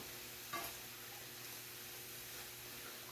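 Zucchini sizzles steadily in a full stir-fry pan, a continuous close frying hiss with one brief sharper crackle near the start and no talking.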